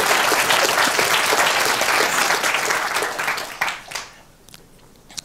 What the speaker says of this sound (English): So please, some applause for him.